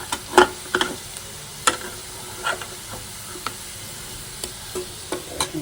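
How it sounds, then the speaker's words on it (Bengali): Onions frying in oil in a wok as spices are added, with soft background sizzle broken by sharp intermittent clinks and scrapes of a utensil, close and fairly quiet. "তেলে কড়াইটা দিয়ে দিয়েছি কড়াই পেঁয়াজ দিয়ে দিয়েছি তো পেঁয়াজটা অন্য ভাজা হয়ে গেছে তো এখন মশলা অ্যাড করে দেবো"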